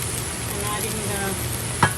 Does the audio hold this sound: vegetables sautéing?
yes